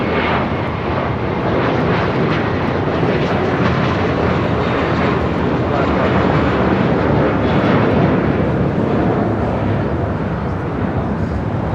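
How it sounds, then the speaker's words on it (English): JetBlue Airbus A321 taking off on runway 25 right at LAX, a loud, continuous broadband jet engine roar holding steady throughout, heard from a nearby vantage point. "Got that JetBlue A321 now taking off on 25 right"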